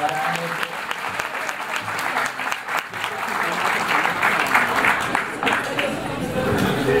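An audience applauds a panelist at a public forum on earthquakes in Bogotá, sustained, fairly loud clapping from a crowd with some voices murmuring underneath.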